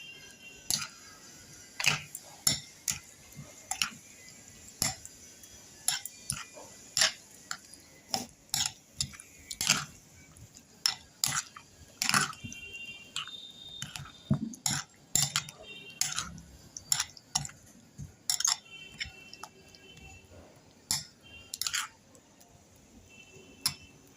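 A spoon stirring raita in a bowl, giving a steady run of sharp metallic clinks and taps against the side, close and fairly quiet with no talk.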